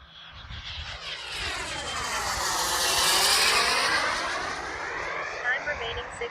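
A giant-scale radio-controlled T-38 Talon jet model flying a roll at about three-quarter throttle, its turbine whine swelling loud as it passes close, then fading slightly, with a steady rushing roar and no talk.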